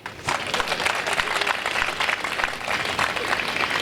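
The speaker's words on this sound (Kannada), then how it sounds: "ಚಪ್ಪಾಳೆ ತಟ್ರಿ" An audience at a talk claps in a brief, loud, dense burst of applause that stays even for a few seconds.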